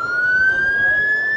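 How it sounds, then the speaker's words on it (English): An ambulance siren wails loud and near at a Blackpool air show, a steady rising tone that sounds alone for the whole stretch over a low traffic rumble. "Oh, we've got sirens. What's going on? Oh, it's just an ambulance."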